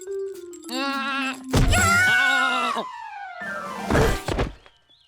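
A goat bleats several times, loud and close, with long wavering cries separated by brief pauses.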